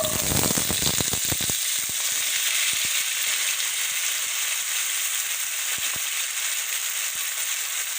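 Cubed potatoes fry in ghee in a karahi with a steady, loud sizzle. A quick run of clattering stirs and scrapes comes at the start, and scattered pops follow.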